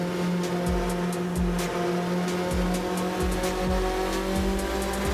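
A car engine drones steadily while driving in Assetto Corsa on a No Hesi cruising server, holding an even tone with regular low pulses and faint ticks, and nobody speaks.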